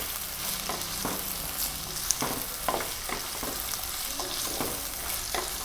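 Nithya vazhuthana and tomato sautéing in a pan, a steady close sizzle with repeated scraping stirs of a spatula against the pan.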